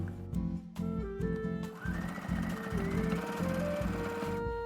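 A sewing machine stitches through old denim in close rhythmic bursts, its motor whirring and the needle thumping fast, with a brief pause for pivoting at a corner before stitching resumes in a long steady run.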